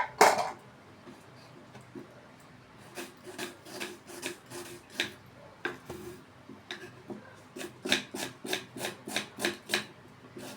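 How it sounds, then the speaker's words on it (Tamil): A knife taps repeatedly on a wooden board, chopping onion, scattered at first then settling into quick, even chopping strokes, close by and fairly soft. "ஆனியன் நறுக்க ஆரம்பிக்கலாம்."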